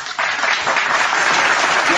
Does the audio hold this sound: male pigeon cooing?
no